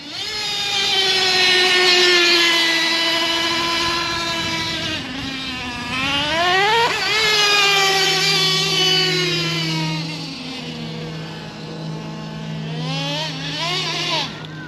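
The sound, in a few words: nitro engine of a Traxxas T-Maxx RC truck running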